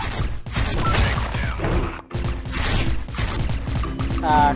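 A gold gun in the video game Special Force 2 fires in rapid two-round bursts, dense loud cracks repeating with short gaps, one brief pause midway, and no talk over the shooting.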